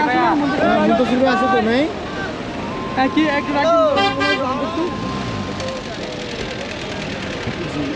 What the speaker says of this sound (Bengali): এই তিনটে ট্রাক সবাই হেল্প করার জন্য আসছে